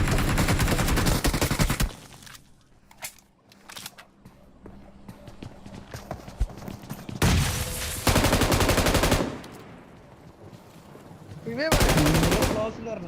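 Bursts of rapid automatic gunfire come in loud volleys, separated by quieter stretches with scattered single shots and clatter.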